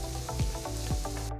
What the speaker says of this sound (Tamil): இது எல்லாத்தையும் 2-3 நிமிஷம் வதக்குங்க.